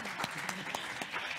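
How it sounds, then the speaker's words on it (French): An audience at a panel discussion on slow living applauds the panelists, producing a faint, even wash of clapping with a few sharper hand claps, heard from a distance for a brief moment. "si vous pouvez m'accompagner avec une grande main d'applaudissements pour nos super panélistes"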